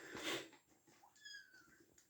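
A cat gives a single faint, brief meow in a quiet indoor room, with soft rustling before it.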